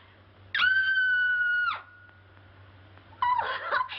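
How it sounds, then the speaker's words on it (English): A nervous woman lets out a long, loud, sustained scream, then after a short pause begins a second, rougher and wavering scream cut off at the end. "I'm so nervous I could scream. In fact, I think I will."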